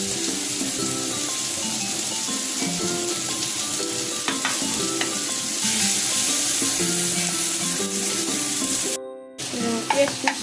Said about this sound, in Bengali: পেঁয়াজটা তো কড়া করে ভাজি নিই